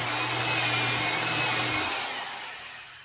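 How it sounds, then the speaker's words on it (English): A power drill whines steadily as it bores a pocket hole into wood, then winds down and fades near the end. "So what you want to do is take your drill,"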